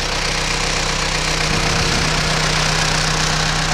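A 1990 Case 586E forklift engine runs at a steady idle, a continuous low diesel drone with a faint rattle, close and unbroken for the whole stretch with no talking.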